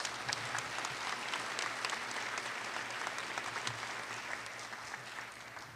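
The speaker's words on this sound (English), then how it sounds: "Let's give them a round of applause in their absence." An audience at an honors recognition ceremony gives a steady round of applause, a dense, even wash of many hands clapping that holds for several seconds and fades slightly toward the end.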